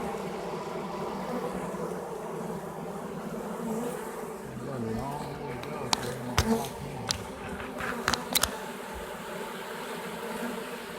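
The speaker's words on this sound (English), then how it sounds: "They got a long chain of bees." A long chain of honey bees from a virgin swarm with many queens hums steadily close by, a dense continuous buzz with a few sharp clicks and knocks near the end as a branch is handled.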